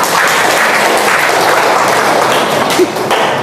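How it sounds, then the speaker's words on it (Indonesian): A dense, steady wash of audience applause fills a student leadership seminar hall, loud and continuous throughout with no pause. "Tepuk tangan untuk Vela."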